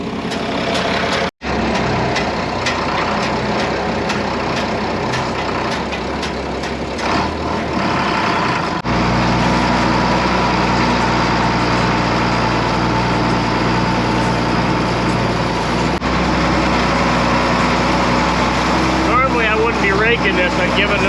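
A farm tractor engine runs steadily and close while raking hay in a field, a loud, continuous drone with a brief cut near the start, mixed with people talking over it.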